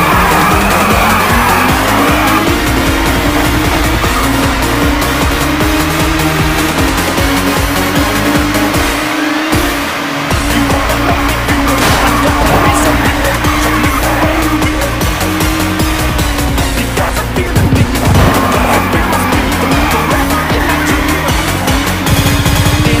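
Race cars launching off the grid in the TOCA PS1 game at Brands Hatch Indy, a dense, loud pack of engine roar with tire squeals and skids, one brief dip near the middle, then revving continuing to the end.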